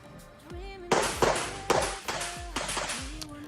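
Gunshots fired during moving-and-shooting practice, a rapid series of five or six sharp loud cracks spaced under half a second apart, close by, with a voice talking over them.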